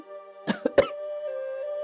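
An older woman gives two or three short coughs in a quiet indoor family setting, with a steady hum underneath and no talk.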